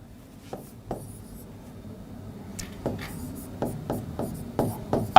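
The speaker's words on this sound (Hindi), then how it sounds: "अब सुनो बच्चे, एक ही गजब के खिलाड़ी का नाम लिखता हूं" A pen scratches out a cricketer's name by hand, a series of quick strokes and scrapes on paper, faint at first and growing more distinct, close up with no talking.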